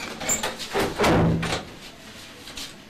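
A house door that does not close well bangs shut in a bedroom at night, a loud close impact with a rattling tail, then quieter room noise, no speech.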